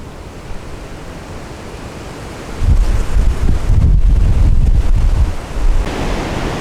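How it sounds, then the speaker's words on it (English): Wind of about 20 miles an hour blows through cottonwood leaves by the Rio Grande, a steady broadband rushing that swells louder midway and stays close and continuous, with no talk. "You can hear the wind blowing through the cottonwood leaves today."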